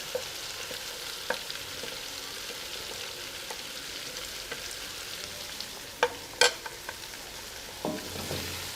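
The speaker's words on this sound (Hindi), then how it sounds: "इन सब को शामिल करने के बाद अच्छी तरह मिक्स करते हैं।" Salt, red chilli and turmeric are stirred into cauliflower pulao in a pot, a soft continuous sizzle with faint scraping strokes and a few louder spoon knocks near the end.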